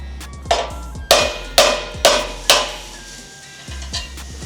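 Five sharp metallic hammer blows ring out close by, roughly every half second, on bolts of a Toyota FJ Cruiser front bumper during installation, each with a short ringing decay, then two lighter taps.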